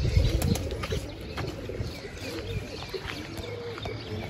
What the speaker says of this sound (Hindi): अभी बंद करने लगे हैं इस कबूतर को